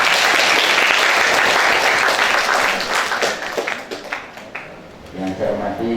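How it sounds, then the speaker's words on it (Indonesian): Applause from an audience at an Indonesian youth-group training event rings out loud and dense, then thins into scattered claps as it fades toward the end. "Aplaus kepada beliau."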